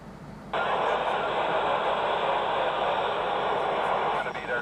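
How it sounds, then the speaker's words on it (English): Ham radio static during a contact with the International Space Station: a steady, loud broadband hiss cuts in after a half second and fills the rest, dropping briefly near the end. "So you can hear a little bit of the static."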